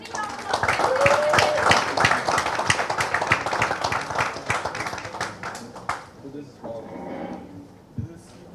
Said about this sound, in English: Can we have the encouraging round of applause?